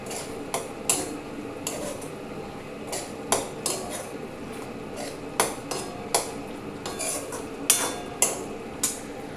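Poppy seed paste being dry-fried in a pan, heard as repeated sharp metallic clinks and scrapes of a spatula against the pan at an irregular rhythm over a faint background, with no talking.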